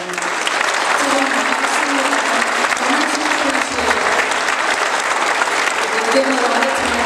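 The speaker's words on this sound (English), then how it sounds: "I hope you'll join me in just giving them a big round of applause" A school audience applauds a group of students with sustained, dense clapping from a large crowd, steady and loud from start to finish.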